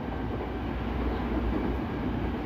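Train rolling along the railway track beside the Cakung switch-over point in Bekasi, a steady close low rumble of wheels and carriages filling the whole stretch without voices.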